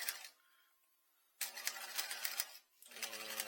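A sewing machine stitching through fabric in two short bursts of rapid, rattling needle strokes separated by a near-silent pause, close and clear with no talk.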